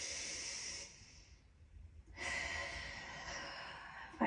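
Slow, deep breathing during a yoga session: a long airy exhale, a short quiet pause, then another full breath, close and clear with no talking.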